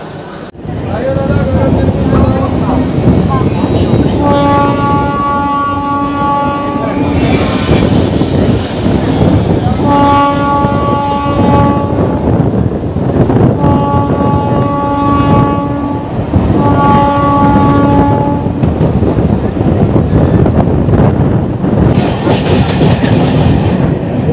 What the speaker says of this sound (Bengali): বন্ধুরা হাওড়া থেকে 5 কিলোমিটার কভার করে আমাদের ট্রেন এসে পৌঁছালো লিলুয়া।